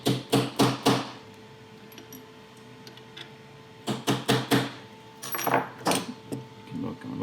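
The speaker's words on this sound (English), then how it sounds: "I'm just going to use this hex screwdriver and a small hammer." A small hammer taps a hex screwdriver onto the tops of rods while seating them during a 3018 CNC carriage assembly, giving two quick clusters of sharp metallic clicks, about four each, close and fairly quiet, separated by a pause.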